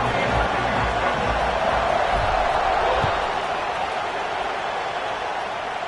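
Dense, steady roar of a large football stadium crowd at a college game, cheering and murmuring continuously at full volume ahead of a kickoff, with a broad wash of noise and no distinct individual voices.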